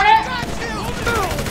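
A gun fires in the video game GTA 5, a loud, quick burst of gunshots at close range, with a voice briefly audible.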